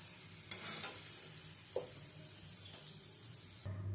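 Diced potatoes fried with salt and turmeric are lifted from hot oil. The oil sizzles faintly and steadily, with a few soft clinks and scrapes of a utensil against the pan.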